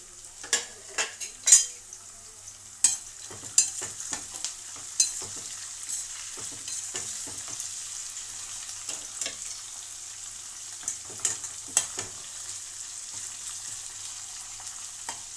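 Curry leaves, green chillies and ginger garlic paste fry in a pan for tomato rice, a faint low sizzle under sharp scraping taps of a spoon against the pan, busier early then sparser.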